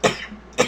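Two sharp, close coughs from a person, about half a second apart, with a faint breathy pause between them.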